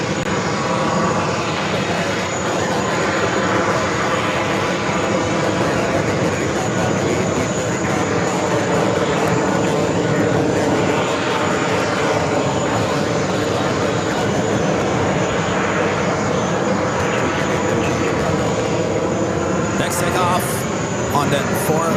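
Boeing 787-9 Dreamliner jet airliner arriving at JFK airport, a steady loud engine roar that holds for the whole stretch without fading, with people talking over it.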